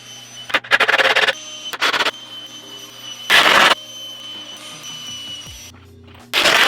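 Power drill driving 2.5-inch screws through pilot holes into 2x4 boards for a large I-beam sawhorse, several short loud whirring bursts separated by pauses, close up, with no talking.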